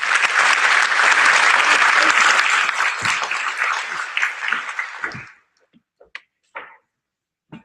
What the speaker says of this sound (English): Let's have a round of applause for us.